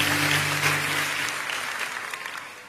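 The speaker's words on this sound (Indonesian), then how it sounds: "Memberi tepuk tangan yang meriah buat Tuhan" A church congregation claps loudly and steadily for a few seconds, the dense applause slowly tapering off, with a low hum beneath.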